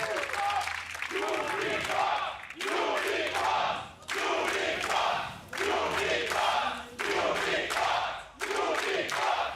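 A League of Legends World Championship play-in arena crowd cheers for Unicorns of Love against Clutch Gaming in loud rhythmic surges, swelling and breaking off several times, with voices talking over the din.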